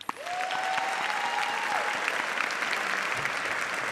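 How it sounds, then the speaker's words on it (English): An audience at an education service awards ceremony applauds chapter winners in a steady, full round of clapping from many hands, with a brief cheer at the start. "Let's give a huge round of applause to these chapter winners."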